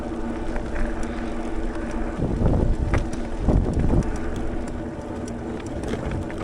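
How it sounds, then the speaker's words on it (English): Wind buffeting the microphone on a ride into a headwind near Custer, Michigan, a steady low rumble with gusty swells throughout and no talk. "I am running into the wind, but it's not as bad as it was yesterday."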